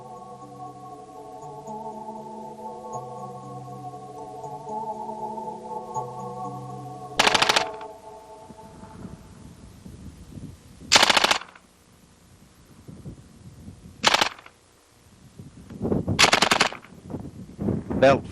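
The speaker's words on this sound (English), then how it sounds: "The C9 maintains continuous fire as long as the trigger is held to the rear." Canadian Forces C9 light machine gun firing in loud continuous bursts, four separate sustained volleys with short gaps between them, set against a low musical background.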